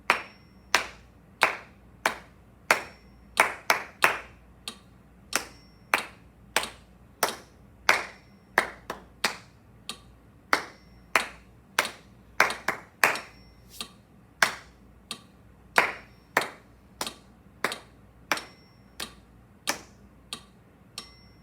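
Solo hand claps at 92 beats per minute, sharp and close, in a steady pulse with occasional quick doubled claps, alone with no other sound.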